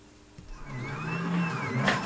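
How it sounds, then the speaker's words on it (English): A 3D printer fitted with a blank extruder runs with a rising whine of stepper motors, the pitch sliding up and down as the head moves, steady and fairly close, without talk. "the printer is working"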